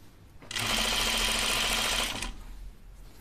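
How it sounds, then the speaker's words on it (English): A sewing machine stitches fabric for gym shorts, one continuous rapid whirring run of about two seconds, close and loud, with a quieter mechanical hum before and after. "And now I'm going to line it up and keep stitching"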